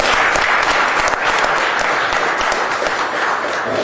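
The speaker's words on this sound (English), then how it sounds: "Give him a round of applause." Steady, dense applause from a lecture audience welcoming a speaker at a talk on the assassination of Malcolm X, loud and continuous throughout.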